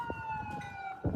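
A siren from an ambulance trying to get through traffic during a street protest holds a steady high tone at moderate distance, with a brief low thump at the end.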